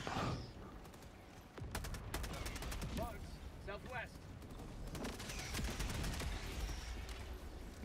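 In Helldivers 2, a deployed sentry turret fires rapid bursts of automatic gunfire amid other combat noise, with a player's voice talking faintly underneath.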